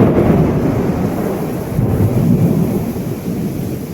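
Heavy night thunderstorm in Surat, a loud continuous roar of downpour and rumbling thunder close by, dense and unbroken, with no talk.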